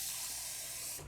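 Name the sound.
pouring water into a cooking pan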